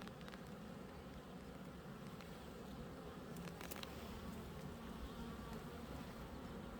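Honeybees lift off from an opened backyard hive, a steady close buzzing drone that holds throughout at moderate loudness, with no voices.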